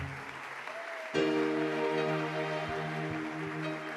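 Congregation in a church breaks into applause and acclamation, a sudden burst of clapping and voices joining over sustained organ or keyboard chords, continuing steadily.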